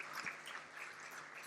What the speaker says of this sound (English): So can we please clap for the very, very amazing panel?